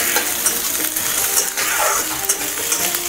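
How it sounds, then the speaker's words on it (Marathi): Beans and carrots stir-frying in oil over a high gas flame for egg fried rice, with a bright crackling sizzle and scraping, clattering spatula strokes against the pan, close and busy, no speech. "आता मी बीन्स टाकले आहे आणि गाजर, हेही छान परतून घ्यायचं आहे"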